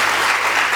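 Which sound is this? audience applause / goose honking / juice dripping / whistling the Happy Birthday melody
audience applause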